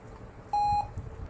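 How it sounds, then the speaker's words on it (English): A single clean electronic beep, about a quarter second long, sounds from a virtual machine as it powers on during a Kali Linux 2020.2 install, standing alone over faint background hiss. "and you hear that beep sound."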